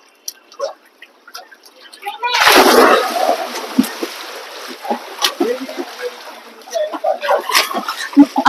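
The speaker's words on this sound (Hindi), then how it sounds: "मुँह के ऊपर पानी आ रहा है सारा।" Water splashes hard onto a person's face, a sudden loud burst followed by smaller drips and splashes, with voices talking and calling out around it.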